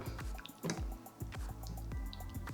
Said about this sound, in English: Into that, you're gonna add guava jam.